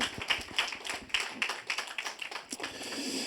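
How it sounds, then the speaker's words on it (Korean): A small church congregation claps during a Sunday service, sparse individual claps with an uneven rhythm, fairly close and quiet, without talk. "박수하겠습니다."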